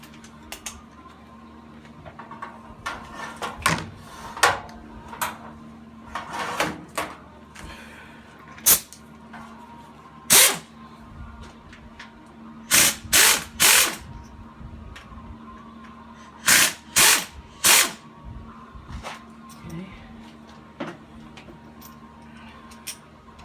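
Metallic clicks and ratchet-like knocks ring out while tools remove the timing belt tensioner from a Chrysler 3.5 engine during a rebuild. Scattered light taps build to several louder, sharp clusters of clacks over a faint steady hum.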